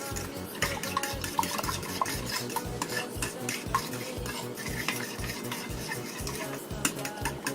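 A seasoned meat mixture is stirred in a pan with a utensil, making rapid rhythmic scraping and clinking over a low sizzle, close and continuous throughout.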